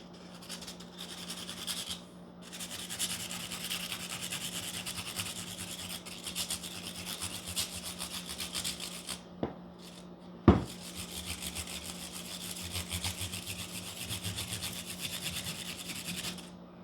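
Guitar frets are polished across the fingerboard with steady back-and-forth rubbing strokes, a soft raspy scrubbing that carries on throughout, broken by one or two sharp knocks near the middle.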